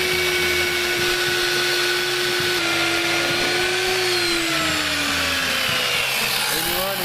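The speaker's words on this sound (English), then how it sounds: "Oh, there goes my drill." A power drill drives a square cutter into wood for tiki carving, giving a loud, continuous whine that holds steady and then sags slightly in pitch as the bit bites under load.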